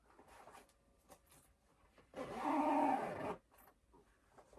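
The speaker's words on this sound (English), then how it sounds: "Sorry if anyone is annoyed by the zipper sounds, but I actually enjoy them" A zipper is pulled in one steady, continuous stroke lasting about a second, a close, fairly quiet rasp set against near silence, with no one talking.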